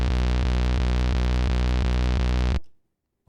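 Looped synth bassline run through a Boss RC-505 MK2 loop station with chorus and EQ, a steady pulsing harmonic drone repeating about every third of a second, loud and alone, then cutting off abruptly into silence.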